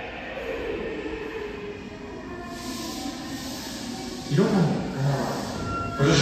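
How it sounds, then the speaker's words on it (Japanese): A subway train rumbles into Shirokane-takanawa Station platform 4 with a low roar and hiss, a Japanese platform announcement voice running over it, brakes squealing near the end. "4番線ただいま到着の列車は車庫に向かう快速電車です"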